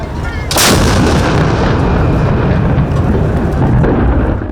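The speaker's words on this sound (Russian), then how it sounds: "Именно там располагается сигнальное орудие, из которого Владимир Уйба произвел полуденный выстрел." A single loud noon signal cannon shot from the fortress gun at the Peter and Paul Fortress, a sharp close blast followed by a long rumbling echo and dense crowd-like wash that fills the rest of the moment.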